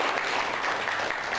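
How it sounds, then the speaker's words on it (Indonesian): An audience at a Buddhist Abhidhamma talk breaks into applause, a dense, even roar of many hands clapping together, loud and continuous with no break. "Semua tepuk tangan."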